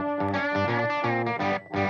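Electric guitar run through parallel compression, played as a series of sustained, heavily processed chords with a thick, distorted tone, each strum ringing out before brief gaps, loud and upfront with no voices.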